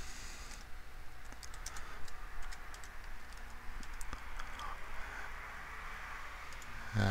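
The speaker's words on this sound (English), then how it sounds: "We're going to type in our real name." Steady, quiet tapping of fingers on a computer keyboard, an even run of light clicks entering login details with no voices.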